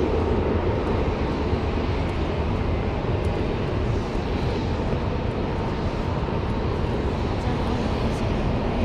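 Airplanes at Frankfurt Airport produce a loud, continuous jet engine roar that stays steady and broad throughout, with no clear speech over it.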